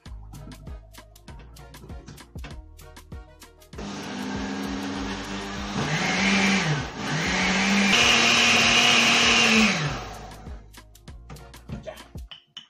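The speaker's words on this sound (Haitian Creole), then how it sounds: "Je vais blender." A blender whirs loudly for several seconds, blending with coconut juice for a crémasse drink, its motor pitch dipping briefly mid-run before surging again, then cutting off; quieter clatter before and after.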